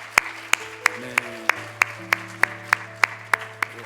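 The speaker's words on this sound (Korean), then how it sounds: "우리 하나님께 큰 영광의 박수 한번 올려드리겠습니다." A church congregation claps together during a Sunday service, with steady rhythmic claps about twice a second over a low sustained organ or keyboard chord. A single short word is spoken at one point.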